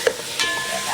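Chicken sizzling in a pan with sautéed onion and garlic, a brief close hiss with a couple of faint stirring clicks.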